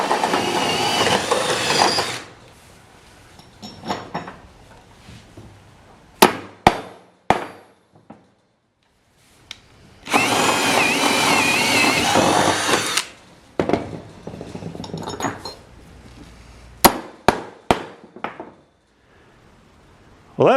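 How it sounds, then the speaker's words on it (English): A power drill whirs in two long bursts while installing D-ring tie-downs on a utility trailer, separated by sharp knocks and clanks of tools and hardware, with quiet pauses between. "So it's time to get the drill out and start installing these D-rings."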